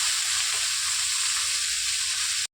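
Shredded cabbage sizzles and crackles steadily in a hot oil-filled pan with shrimp, a dense, continuous frying hiss heard close up that cuts off abruptly at the end.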